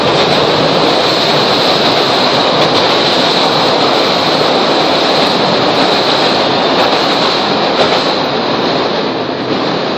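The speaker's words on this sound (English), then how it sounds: "Oh, train." A train rumbles past steadily and loudly for the whole stretch, a dense roar with hiss and faint rhythmic clatter of wheels on track.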